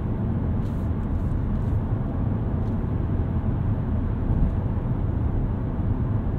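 A 2015 Chevrolet Cruze diesel pulling away gently on a test drive, a steady low engine and road drone heard from inside the cabin with no talking.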